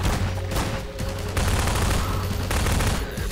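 Sustained gunfire in Half-Life 2 during a fight alongside Antlion companions, dense rapid shots running loud and continuous for a few seconds.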